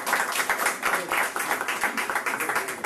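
An audience at a French heritage language program event in Miami claps steadily for a distinguished guest, a dense patter of many hands with a loosely regular pulse that holds at an even level throughout.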